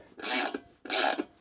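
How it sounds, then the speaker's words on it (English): A crude puller tool on a Citroën Mehari/2CV rear axle gives two short, harsh grinding rasps as it works the brake drum off, close and loud with a brief gap between them. "the drum is off using this very crude puller tool"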